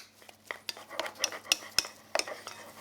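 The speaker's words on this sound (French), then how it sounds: "on va venir incorporer la farine qu'on verse en pluie. Voilà, on mélange bien" Choux pastry dough being stirred in a pan after flour is rained in, giving soft scraping and clicking utensil strikes against the pan in an irregular rhythm, close and fairly quiet.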